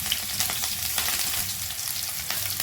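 Cumin seeds and green chilies fry in hot oil with a steady, close, crackling sizzle and some brief spattering pops, heard alone without voices.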